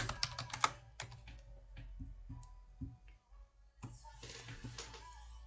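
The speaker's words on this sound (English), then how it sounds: "let's just type in children book" Quick bursts of clicking keystrokes on a computer keyboard, close and fairly quiet, with short pauses between runs of typing and a faint voice now and then.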